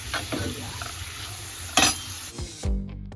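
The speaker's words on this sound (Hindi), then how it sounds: "तो चलिए अब इनको भून के कर लेते हैं।" Mixed spices sizzle and fry in a hot pan while a spoon stirs and scrapes through them, a steady close crackle broken by a louder scrape near the end.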